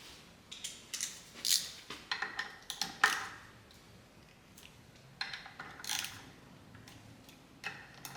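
Clutch screws being tightened and torqued on a 1977 BMW R75/7, with a run of small, close metallic clicks and ratcheting ticks in uneven bursts, no talking.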